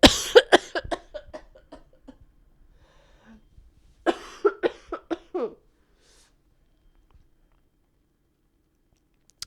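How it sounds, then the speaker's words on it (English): Two bursts of harsh, rapid coughing, each a string of several coughs close to the microphone, separated by a quiet pause. "I was literally just about to say if I burst into a coughing fit."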